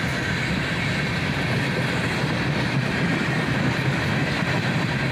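CSX freight train led by a pair of SD-43 locomotives, both built for the Seaboard Coastline in 1979, rolling past on a cold morning: a steady, loud broadband roar of wheels and cars with a constant low rumble throughout.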